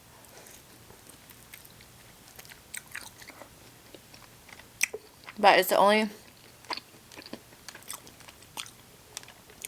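Someone chews Buffalo Wild Wings chicken wings in a close, loud burst of crunchy, wet mastication midway, with scattered smaller mouth clicks and brief speech around it.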